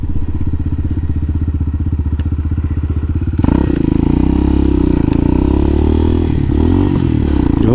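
A 2020 CSC TT-250 motorcycle holds a steady single-cylinder drone, then a missed gearshift brings a sudden clunk and a jump in engine pitch as revs flare and settle. The engine stays loud and continuous throughout, with no voices.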